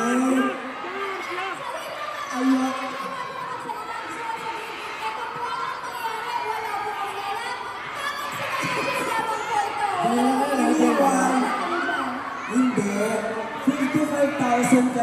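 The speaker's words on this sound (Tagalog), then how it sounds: "narinig ko ang lakas ng sigawan ng JF lang" A large crowd of PBB Gen11 fans at a Bida Kapamilya gathering shouts and cheers in a loud, sustained roar with overlapping voices, swelling louder toward the end.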